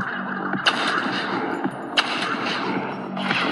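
Sniper rifle shots in a mobile sniper video game, three sharp loud cracks spaced about a second and a half apart over steady background game music and ambience.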